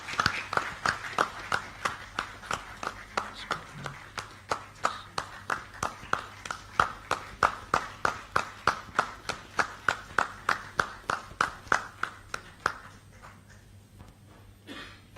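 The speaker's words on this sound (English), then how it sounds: "I request everyone to give them a big round of applause." At the grand finale of a state-level quiz for judicial officers at the High Court of Orissa, the audience gives the first runner-up team a round of applause. It settles into a loud, rhythmic unison clap of sharp regular beats that slows and thins out toward the end.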